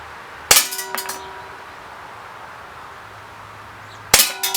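A KWC Tanfoglio Witness 1911 CO2 BB pistol fires and the BBs strike a target, giving two sharp metallic clangs about three and a half seconds apart over a quiet background.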